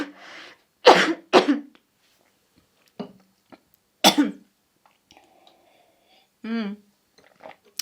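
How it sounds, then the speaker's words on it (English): A person coughs several times up close, sharp separate bursts with silent gaps between them, then some throat clearing and soft breathy sounds. "Okay, let me cough."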